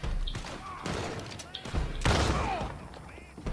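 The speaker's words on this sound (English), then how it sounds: "there's a sniper shooting at you" Several loud, sharp sniper rifle gunshots crack at irregular intervals amid Red Dead Online game sound effects, with a voice talking between the blasts.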